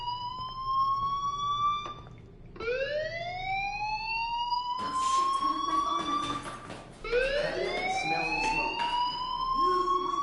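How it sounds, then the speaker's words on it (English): Fire alarm wailing in a school, repeated rising electronic siren sweeps with brief gaps between them, loud and steady. "do you hear that fire alarm?"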